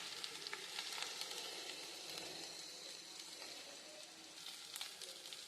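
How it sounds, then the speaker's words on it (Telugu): Prawns fry with masala in a pan, giving a soft, steady sizzle and crackle with occasional sharper pops, heard alone and fairly quiet. "ఇప్పుడు మనకి ఈ మసాలాతో పాటు వేగితే సరిపోతుంది."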